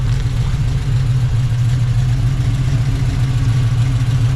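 A rotisserie-restored 1971 Chevrolet Nova SS engine runs at a steady, loud idle with a deep, continuous low rumble close by, no one talking over it.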